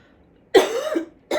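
An adult coughs once, a sharp, close, harsh burst with a short rasping tail, and a second cough begins right at the end, in an otherwise quiet room.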